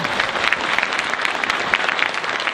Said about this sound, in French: On peut applaudir Laurent Sarnet